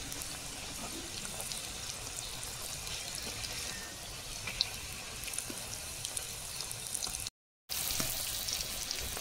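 A soybean omelette, turned over, fries in hot oil with a steady, close crackling sizzle throughout, broken only by a brief gap near the end.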